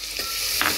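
Onion being fried in butter and a little oil with garlic in a pan, a steady close sizzle with a brief stir or clatter near the end.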